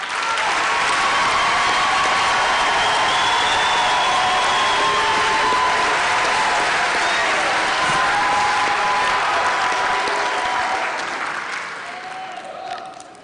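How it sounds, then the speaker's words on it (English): An audience at a university autumn graduation ceremony for the Faculty of Science gives new graduates and diplomates sustained, loud applause that fills the hall for over ten seconds before fading, with a few cheers. "give our newly qualified graduates and diplomates this morning with a round of applause"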